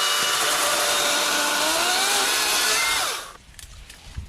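A Wild Badger 40-volt 14-inch battery chainsaw cuts through a thick branch outdoors, its loud, close, high whine dipping in pitch under load before the motor stops abruptly and only faint rustling remains.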